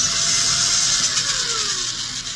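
A Traxxas LaTrax Teton RC truck's electric motor runs at full throttle, a steady high-pitched whine with a pitch that shifts as it spins, close and loud with no voices.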